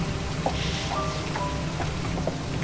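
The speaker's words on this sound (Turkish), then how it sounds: "Yağmur da yağıyor." Steady rain falls outdoors at a doorstep, a dense and even hiss of drops that fills the whole stretch, with a few faint knocks and tones in the background and no one speaking.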